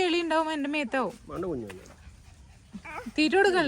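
A dog whimpers and yips close by in high, wavering cries, mixed with people talking.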